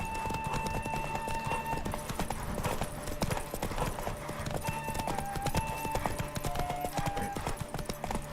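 Galloping horse hooves from The Witcher 3: Wild Hunt, a steady rapid clip-clop that runs the whole time under game music and ambient sound, with a brief whinny mixed in.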